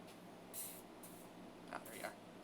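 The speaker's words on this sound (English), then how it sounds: "See the bug, I gotta get the spray." Short hissing bursts of bug spray from an aerosol can, a few quick sprays spaced apart over a steady background hiss, fairly close.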